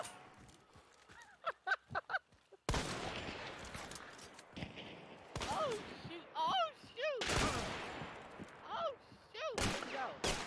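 Gunshots in the shooter Hunt: Showdown: a few quiet pops early, then several loud, sharp blasts spaced a second or two apart, with voices talking between them.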